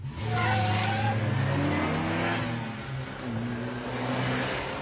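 A Lotus Esprit being driven hard: a loud, continuous engine note heard from inside the car, its pitch climbing as it accelerates and then easing and climbing again, with no voices over it.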